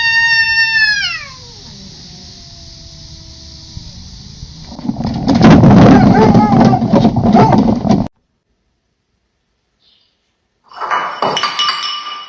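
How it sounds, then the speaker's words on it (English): A cat in trouble lets out a loud, drawn-out yowl that slides downward, followed by a burst of scuffling and clinking commotion, then silence and a brief clatter. "This cat was in trouble and yelled for backup from her big brother."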